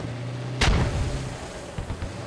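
A rocket artillery barrage strikes a main road in the military shooter game Squad: one sharp, loud boom followed by a rumbling decay and fainter distant thuds.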